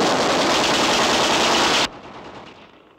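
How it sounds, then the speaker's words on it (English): Firing squad rifle volley, a loud, dense burst of rapid gunfire that stops abruptly, leaving a fading echo. "That was a firing squad, my dear Nielsen."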